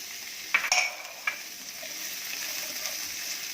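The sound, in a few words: onion and capsicum being stir-fried in a pan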